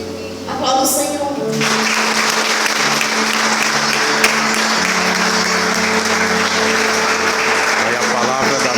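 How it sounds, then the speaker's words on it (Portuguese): A church congregation breaks into applause after a brief opening sound, then keeps up sustained, loud, dense clapping, with some voices and cheers mixed under it. "Aplauda o Senhor."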